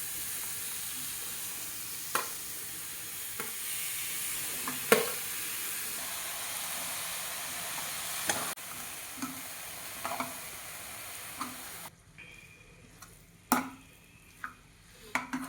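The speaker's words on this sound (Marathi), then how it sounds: "आता आपण सर्व भाज्या यामध्ये मिक्स करणार आहोत व्यवस्थित परतून घेणार आहोत" Mixed vegetables for Maharashtrian bhogichi bhaji stir-fried in a pan, a steady low sizzle with scattered scraping clicks of a spoon against the pan, quieter toward the end.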